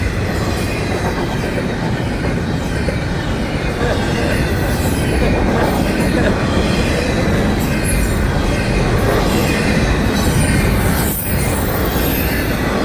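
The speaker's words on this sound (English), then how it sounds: "Looks like a good sized train though." A good-sized train rolls past on the rails near a road, a loud sustained roar of wagons with rhythmic clickety-clack and occasional wheel squeal lasting the whole stretch, without talking.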